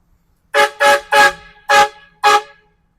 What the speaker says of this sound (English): thoughts on the train horn setup from Evil Energy